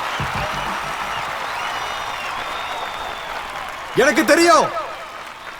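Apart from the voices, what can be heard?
audience applause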